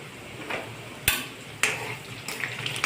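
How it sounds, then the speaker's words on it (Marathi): Green and red chillies hitting hot oil in a pan, giving a steady low sizzle with a few sharp bursts and clinks of a stirring spoon, close and without talk. "आता आपण 2 हिरव्या मिरच्या आणि 4 लाल मिरच्या घालत आहोत."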